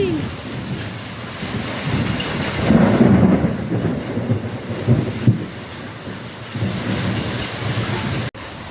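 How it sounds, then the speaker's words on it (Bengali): Hailstorm with heavy rain and thunder, a dense constant roar of rain and hail pelting surfaces, with low rumbling swells of thunder rising and fading. "কি বৃষ্টি অনেক দিন পর শিলাবৃষ্টি হচ্ছে"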